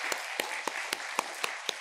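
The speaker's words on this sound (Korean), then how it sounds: "박수로 한번 축복하시겠습니다" A church congregation gives a blessing applause during a worship service, with sharp, evenly spaced claps about every quarter second over a soft background wash. The rhythm suggests a unison beat rather than scattered clapping.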